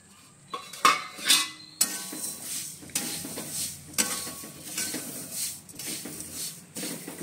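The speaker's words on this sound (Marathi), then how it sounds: "मी थोडस तेल टाकले तर आता त्याच्यामध्ये धने भाजून घेते." Coriander seeds roasting in a little oil in a pan, stirred with a metal utensil: repeated clinks and scrapes of metal on metal over a soft, steady sizzle, heard up close.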